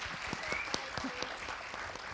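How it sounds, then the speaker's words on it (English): An audience at a panel discussion for the women's football film Copa 71 claps for Najma, a former Afghan player. The steady, fairly faint applause of many hands runs throughout, with no one speaking. "Let's give her a big clap"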